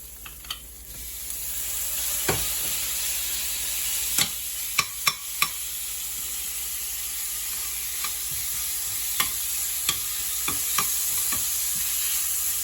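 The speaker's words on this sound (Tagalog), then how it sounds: "uunahin ko nang ilagay itong giniling" Ground meat sautéing in a hot pan, a dense steady sizzle with scattered sharp clicks and taps of a spatula against the pan, close and continuous with no speech.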